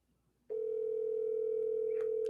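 Telephone tone heard while placing a call, a steady unbroken electronic hum that starts abruptly and holds without pause, fairly loud and close through a phone speaker, with a faint click near the end.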